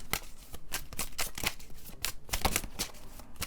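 Tarot cards shuffled by hand and drawn from the deck, a close run of quick riffling flicks and soft papery slaps in an irregular rhythm, with no talking.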